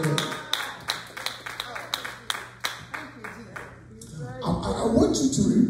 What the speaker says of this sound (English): Clap your hands with God.